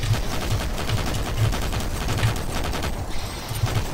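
Rapid chain gun fire in Doom 3, a dense continuous burst of thudding shots running throughout at steady loud level with no talk.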